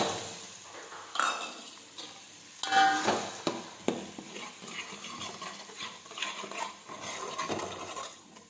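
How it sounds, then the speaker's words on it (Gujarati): Ground onions tipped into a pan and stirred while cooking undhiyu, with close metallic scraping and clinking of a spoon against the pan in an uneven, continuous rhythm. "હવે આપણે પીસેલા કાંદા નાખીશું"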